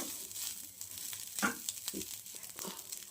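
Soft, steady sizzling of momo filling frying in oil, with occasional stirring scrapes, fairly quiet and close.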